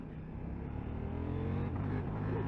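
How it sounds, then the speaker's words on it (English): A 2022 KTM 890 Duke motorcycle engine revs high and steady against the rev limiter while riding, a loud continuous drone with a slight buzzing stutter and no talking. "I think we hit the rev limiter then."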